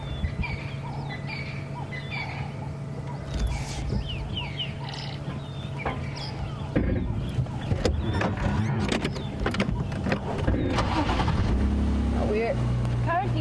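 A safari game drive vehicle rolls along a bush track at sunrise, its engine a low steady rumble with rattles and bumps, while birds call around it and the motor grows louder near the end.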